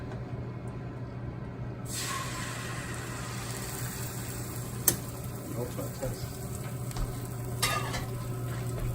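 Beaten egg with butter and oil sizzles and crackles in a Trangia Duossal fry pan, a steady soft frying hiss with occasional scrapes of stirring, close by and fairly quiet.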